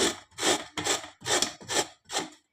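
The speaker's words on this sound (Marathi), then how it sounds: "अशा पद्धतीने आपल्याला कैरी किसून घ्यायची आहे" Raw green mango being grated on a kitchen grater, six rhythmic rasping strokes in steady succession, close and fairly loud with short pauses between, no talking.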